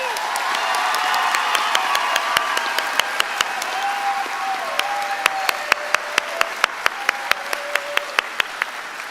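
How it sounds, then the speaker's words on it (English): Sustained applause from a crowd at a high school health professions commencement, a dense steady wash of clapping filling the hall, with a few sharp individual claps standing out near the end and talk mixed in underneath. "So another round of applause for all these kiddos."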